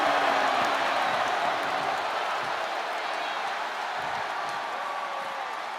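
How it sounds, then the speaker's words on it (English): A capacity arena crowd in the WWE 2K24 wrestling game roars steadily through the Roman Reigns vs Cody Rhodes match. The broad, continuous wash of noise is loud, stays level and fades slightly, with no distinct voices. "you hear this capacity crowd following you on that journey."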